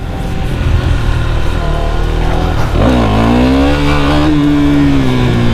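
KTM Duke 390 motorcycle engine revving hard and steady, its pitch climbing sharply partway through and then holding high and loud with no talk over it.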